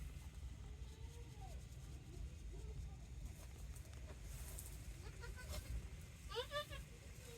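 Goats bleat in a barn in cold weather during kidding season. The faint, wavering calls sit over a low background rumble, and a clearer, closer bleat comes near the end.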